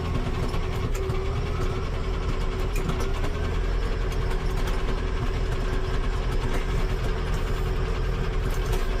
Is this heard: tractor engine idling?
yes